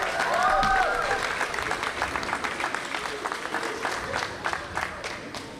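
A crowd at an outdoor pool reopening celebration applauds, dense clapping that starts loud, then thins gradually over several seconds.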